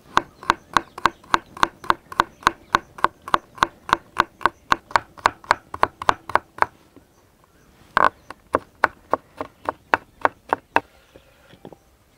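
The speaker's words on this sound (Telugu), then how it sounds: "మనం పచ్చిమిర్చి వెల్లుల్లి కోసి పక్కన పెట్టుకుందాం" Green chillies and garlic chopped with a knife on a cutting board for a restaurant-style chicken appetizer: a fast, steady run of crisp close taps, a brief pause, then a second burst of even chops.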